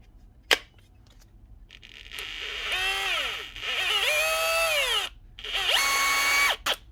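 A Makita or DeWalt hammer drill on a repair bench is run in several bursts, its motor whining up and down in pitch between brief pauses, loud and close with a sharp click at the start.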